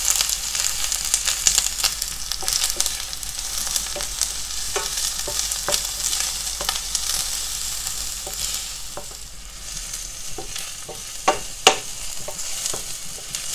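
A sautéed mixture is stirred into Manado-style Brenebon soup, steady sizzling under repeated sharp scrapes and clinks of a utensil against the pot, close and continuous with no voices.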